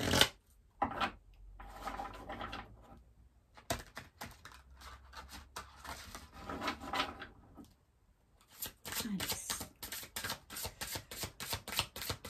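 Oracle cards are shuffled close by in quick papery bursts of riffling and sliding, separated by short pauses of near silence, faint and intimate with no talking.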